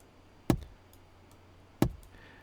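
A car glove box being searched in The Long Dark makes two sharp, close clacks about a second apart, each with a short rattle like plastic cassette tapes shifting, over a quiet background.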